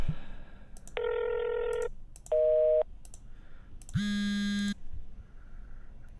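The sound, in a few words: cell phone beep sample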